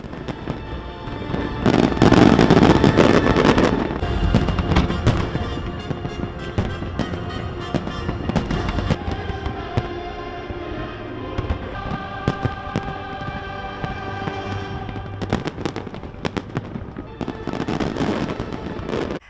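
A long fireworks display on the Danube riverbank with dense crackling bursts and booming thuds, loudest early on, then steadier popping and rattling for the rest.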